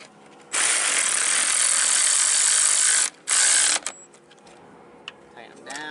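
A ratchet tightens the front strut bolts on a Nissan Versa in two loud, rapid bursts of clicking, a long one followed by a short one, then quiet workshop noise.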